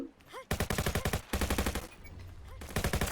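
Rapid automatic gunfire in the Venge.io shooter game comes in fast rattling bursts separated by short pauses, loud and close.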